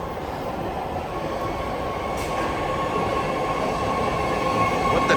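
Eight-car BART Blue Line train arriving at Powell Street Station, a continuous rumbling roar of wheels on track with faint squeal, growing slightly louder, with no talk.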